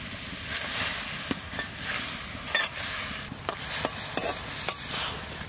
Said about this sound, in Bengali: ওই গরম জলে পাতা কটা দিয়েই আমি তুলে নেব